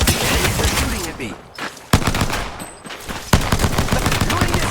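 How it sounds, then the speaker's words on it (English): Video game gunfire crackles in dense bursts with sharp louder shots, mixed with game sounds and a player's voice. "They're shooting at me."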